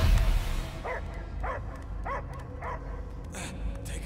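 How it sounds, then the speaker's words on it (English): A dog barks in the Guardians of the Galaxy video game, five or six evenly spaced sharp barks at moderate distance over a low rumbling background. "I hear only barking"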